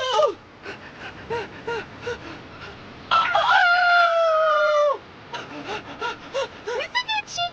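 A cartoon chicken crows in a long, loud cock-a-doodle-doo, set between short, choppy clucks and squawks, with brief character voices around it.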